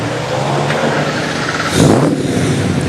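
A V8 car engine at a 2008 rally in Shepparton idles steadily, then swells into a louder rev near the middle before settling back to a rumbling idle.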